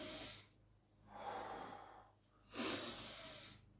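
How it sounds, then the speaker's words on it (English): Slow, deep breaths in and out during a pranayama breathing exercise, audible as soft, airy rushes in alternating waves, very quiet and close with no talking. "breathing in"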